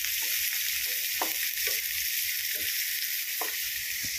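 Chopped onions frying in a pan for a Konkan-style jackfruit vegetable dish, a steady loud sizzle with occasional soft stirring scrapes, close up and without speech.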